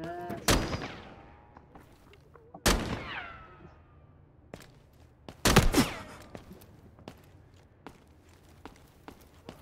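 Gunfire in the video game Delta Force: a few loud, sharp shots with ringing tails spaced over several seconds, plus softer distant pops and footsteps in between.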